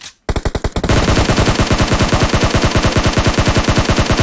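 Rapid, sustained automatic gunfire from PUBG Mobile, rattling loudly and evenly with a brief gap before the bursts run together.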